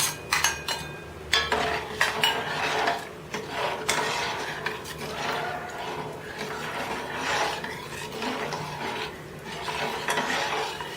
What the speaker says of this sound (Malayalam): മോര് ഇളക്കിക്കൊണ്ടേയിരിക്കുക.